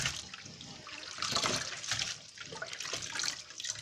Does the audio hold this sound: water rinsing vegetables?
yes